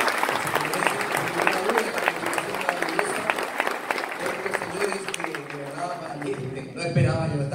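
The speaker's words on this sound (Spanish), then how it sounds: "un aplauso de verdad enorme para ellos." Enthusiastic audience applause for a performing group at a music event, dense clapping from a large crowd with voices mixed in, fading slightly before a voice begins speaking at the end.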